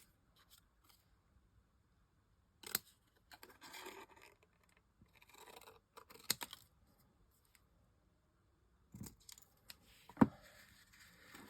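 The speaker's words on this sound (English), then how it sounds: "Not very good at cutting straight, which is why long bladed scissors really do help." Long-bladed scissors cut through card in a few separate bursts of crisp snipping and scraping, quiet and close, with silent pauses between the cuts.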